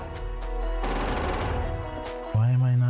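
Rapid automatic gunfire in the factory-building game Factorio as a player shoots at a wooden chest, a sustained burst of shots over steady background game sounds and music, ending with a louder tonal hum.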